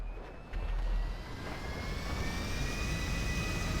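A 10-million-dollar airplane in GTA 5 roars steadily with loud, continuous jet-engine noise, a rising whine running over a broad rushing drone with no talk.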